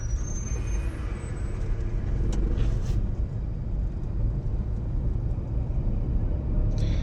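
Manual car speeding up during a driving lesson, a steady low engine rumble and road noise from inside the cabin, with a few faint clicks and no talking.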